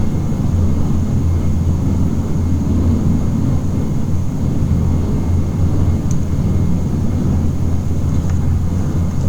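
Steady broadband engine roar of a Dash 8 Q400 turboprop in a flight simulator, a constant loud drone with low hum throughout and no talking.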